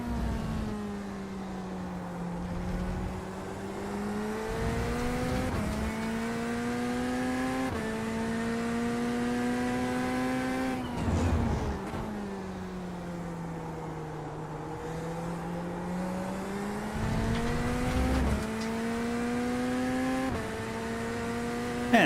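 Porsche race cars in the iRacing racing game accelerate hard, a steady engine drone rising and falling in pitch through repeated gear changes, loud and continuous with no talk.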